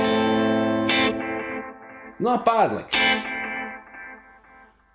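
Electric guitar played through the delay effect of a Sonicake Matribox II budget modeler, sustained chords trailing into repeating echoes, with someone briefly speaking over the tail.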